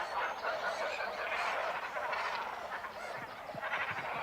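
A breeding colony of great cormorants on a lake island calls continuously, a dense harsh chorus of overlapping guttural croaks and honks filling the air without pause.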